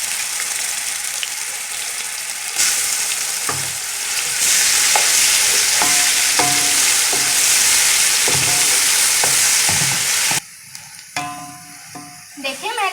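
Loud, steady sizzling of ginger garlic paste frying with onions in a pan, with occasional scraping and stirring clatter; the sizzle drops away near the end, leaving quieter clinks.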